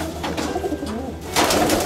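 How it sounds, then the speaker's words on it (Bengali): Pigeons of several kinds in a garden, soft repeated throaty cooing close by, layered calls over a low background, with a brighter rustle near the end. "নানা রকম কবুতর মিলে এই বাগানটা যেন ভরে থাকে।"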